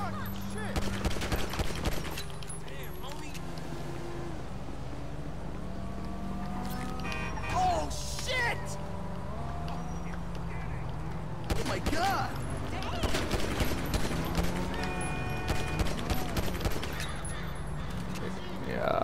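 Rapid gunfire in Grand Theft Auto V during a fight with motorcycle riders, with repeated bursts of shots over vehicle engine noise and game sounds. People talk in between.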